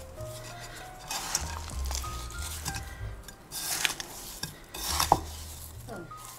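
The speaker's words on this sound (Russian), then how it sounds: "Зашли на кухню, помешали." Sugar is stirred into apricot jam in a pot, with a spoon scraping and clinking against the pot in irregular strokes, quiet and close, and faint kitchen sizzling in the background.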